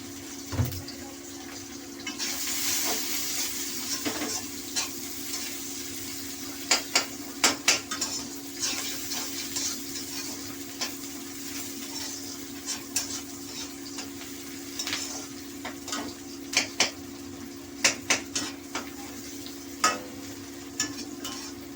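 Chopped onion goes into a pan for mung dal with fish head and is stirred as it fries, giving a steady close sizzle with repeated sharp clinks of a utensil against the pan.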